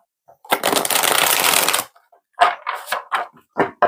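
Akashic tarot cards being shuffled by hand: a dense riffling burst lasting over a second, then several short separate card snaps and slides, close and crisp.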